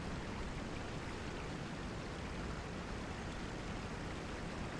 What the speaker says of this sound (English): The waterfall is very noisy.